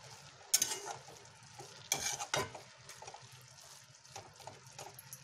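Carrot halwa being stirred in a pan, with soft wet scraping and squelching strokes, a couple of sharper clanks near the start, over a faint low sizzle, close but quiet.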